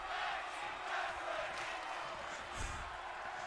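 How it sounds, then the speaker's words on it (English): A live wrestling arena crowd at a tag team match roars and cheers continuously, a loud dense wash of voices that swells and dips with a sharp thump near the end. "The crowd going crazy,"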